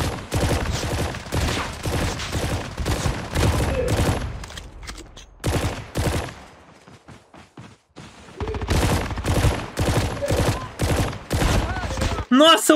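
Rapid bursts of gunfire from the Call of Duty Mobile video game, with a broken-feeling pistol in play, crackle loudly in dense repeated volleys, pause briefly in the middle, then resume; voices chatter over the shooting.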